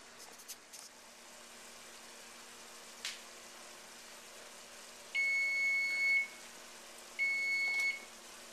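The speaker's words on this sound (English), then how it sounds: "And that's the timer." Kitchen timer beeping twice: a sustained electronic tone followed after a short gap by a second, shorter tone, clear over quiet room hiss, with a faint click earlier and no talking.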